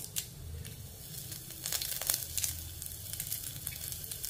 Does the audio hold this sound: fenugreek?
yes